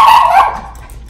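Excited dog giving one loud, close bark with a whiny, yelping edge, fading quickly into a quiet room.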